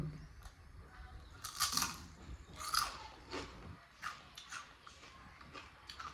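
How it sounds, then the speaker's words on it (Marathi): Crunchy homemade chips bitten and chewed close up, a few sharp crackling crunches at uneven intervals over a steady low background hum, fairly quiet overall. "चला एक खाऊन पण दाखवते किती कडकुडकुड लागते ती. कडकडकड नाही, कुडकुड कुरुम कुरुम."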